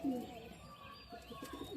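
Young pigeons kept for sale coo softly in short repeated low calls, a few faint chirps mixed in, fairly quiet and close, with no speech over them.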